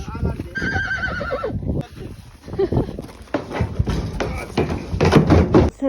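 A horse foal whinnies repeatedly while hooves clop close by during a horse migration toward Tusheti in Georgia; people talk throughout.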